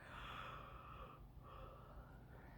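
A person gives one long, breathy yawn with an airy inhale, a brief pause and a drawn-out exhale, heard close and faint.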